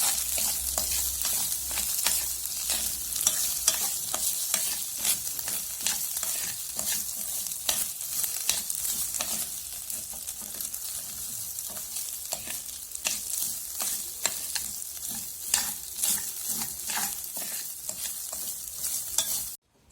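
Rice with oil, salt and a spoonful of cinnamon is stirred and fried in a pot, with a steady sizzle and frequent scraping spoon strokes close up for the whole stretch, no talk.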